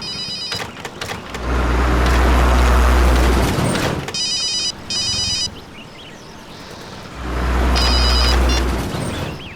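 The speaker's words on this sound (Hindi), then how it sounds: "ओह नो, मॉम का ही फोन है।" A phone rings with a call from mom in two bursts of electronic ringing, mixed with loud low rumbling and a booming engine-like swell, and no speech.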